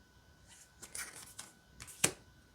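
Tarot cards from the Night Goddess deck riffled and flicked in a short, quiet shuffle, a few soft papery bursts ending in one sharper snap, alone with no talking.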